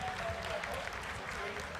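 Mission control staff clap during the Chandrayaan-3 soft-landing descent, a brief dense patter of applause over a low rumble, with faint voices mixed in.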